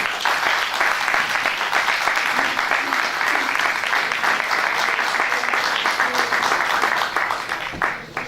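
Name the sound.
audience applause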